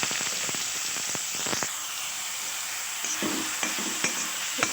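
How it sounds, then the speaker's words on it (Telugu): Thinly sliced onions sizzle and crackle steadily in hot oil in an iron kadai. Sharp scraping stir strokes rise over the constant frying hiss, close and fairly loud, with no talking. "ఇప్పుడు దీంట్లో ఒక 2-3 ఆనియన్ సన్నగా కట్ చేసి వేయాలి"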